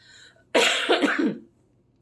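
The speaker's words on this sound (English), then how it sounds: "I'm just going to cough through a video." A single harsh cough bursts out close by, breaking into two or three rough, throaty pulses before stopping.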